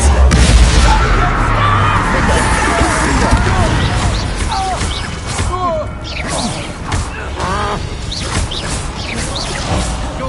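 A Confringo explosion spell cast in Hogwarts Legacy opens with a heavy, booming blast, then gives way to crackling, whooshing combat effects with voices calling out throughout.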